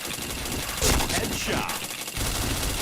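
Rapid bursts of video game gunfire crackle across the whole stretch, with a louder volley near the start of the second second, and a voice talks briefly over the shooting.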